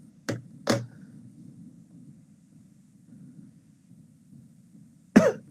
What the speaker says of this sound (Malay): Batuk ni tak tahu.